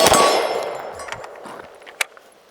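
A handgun-calibre carbine such as the Grand Power Stribog SP45A fires a single loud shot at an outdoor shooting range, a sharp crack that rings out and decays, followed by a brief metallic clang.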